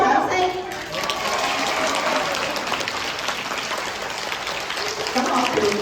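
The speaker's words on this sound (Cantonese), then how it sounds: "聽到大家熱烈嘅掌聲" An audience applauds warmly after a performance, with steady, dense clapping that fills the whole stretch at a fairly close, even level, without a break.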